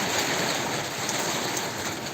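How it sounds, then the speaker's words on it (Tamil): Heavy rain pouring down in a steady, dense hiss that stays even and loud for the whole moment, with no voices. "அந்த அளவுக்கு மழை பெய்யுது சரியான மழை"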